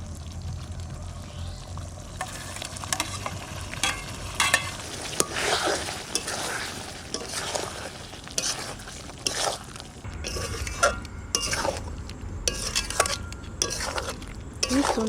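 Spinach leaves tipped into a pan of frying chicken for palak chicken, then stirred: repeated scraping, rustling stir strokes over a steady sizzle, close and fairly loud, with no talk.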